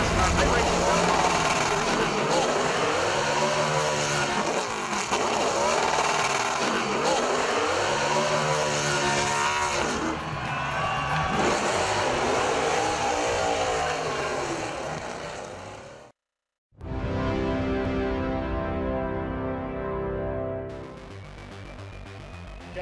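NASCAR race cars in iRacing, engines droning and revving in repeated rising and falling sweeps as they pass, with a commentator talking over them, a brief cutout near the end, then engine noise resuming.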